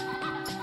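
Chicken clucking in the Egg, Inc mobile game, a short burst of close, repeated clucks.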